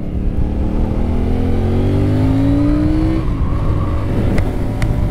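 A CF Moto 450CL-C motorcycle accelerates hard from close by, its engine note climbing steadily for a few seconds before a gear change drops the pitch and the revs build again.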